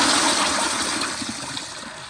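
A Kohler Highcliff Ultra toilet with a flushometer, running at raised water pressure, flushes with a loud, steady rushing gush of water that holds for the whole stretch and eases slightly toward the end.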